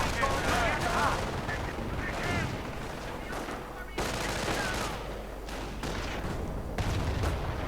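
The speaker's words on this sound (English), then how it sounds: "And then we go the MG42 stopping the Volksgrenadiers' assault." MG42 machine gun fire during a World War II strategy video game battle, dense bursts of rattling gunfire and scattered distant shots rolling on steadily throughout the battlefield din, with no one talking.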